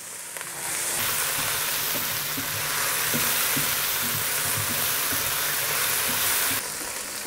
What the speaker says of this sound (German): Und jetzt lasse ich das Ganze noch ein bisschen anbraten.